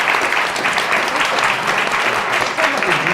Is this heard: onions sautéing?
no